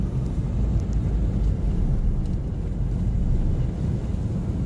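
Wind rumbles and buffets against a car driving Route 218 at night, a loud, continuous low roar with steady road noise and no talking.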